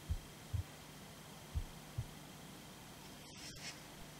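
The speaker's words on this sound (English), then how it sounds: "Heartbeat." Faint low heartbeat thumps come in pairs at an even pace over a quiet hum, in a music track, followed by a soft scraping sound near the end.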